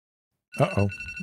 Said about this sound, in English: Oh shoot, that's my phone.